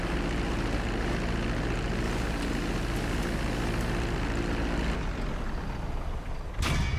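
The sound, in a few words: airplane taxiing in video game GTA V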